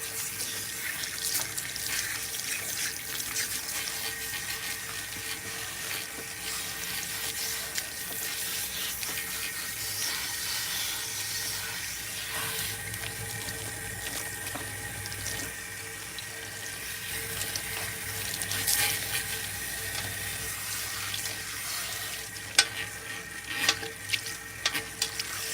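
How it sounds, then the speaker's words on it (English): Running water pours steadily from a salon sink tap as hair is rinsed, a continuous close hissing splash, with a few small bumps near the end and no talking. "we're gonna rinse Miss Ruby"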